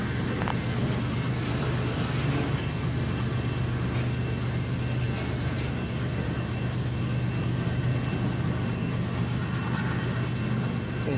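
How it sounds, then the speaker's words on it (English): A GE diesel locomotive rumbles steadily nearby, heard from inside a car, a continuous low engine drone with road and rail noise, constant and fairly loud without pause. "I hear the GE chugging behind me."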